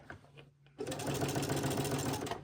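Sewing machine fitted with a walking foot stitching a vest facing for a medieval men's costume, starting after a brief pause and then running in a steady, loud, continuous whir to the end.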